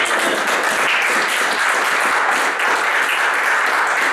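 A church congregation bursts into sustained applause and clapping at a seminar, a dense, loud wash of many hands continuing steadily throughout with no pause.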